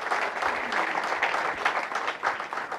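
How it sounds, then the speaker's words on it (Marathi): Loud, sustained applause from an audience at a Marathi cultural event, dense clapping filling the whole stretch with steady intensity and small swells. "इथं जरा जोरदार टाळ्या त्यांच्यासाठी होऊ द्या."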